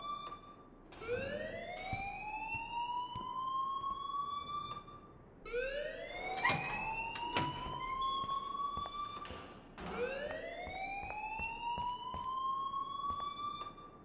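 A school fire alarm siren in Life Is Strange wails upward in three long rising sweeps about four seconds apart, steady and moderately loud with a low background rumble.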